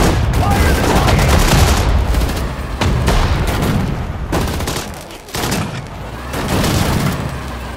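Dense battlefield gunfire in the World War II strategy game Sudden Strike 4: continuous volleys of rifle and machine-gun fire with heavy booming shots, loud and close, in irregular bursts with brief lulls.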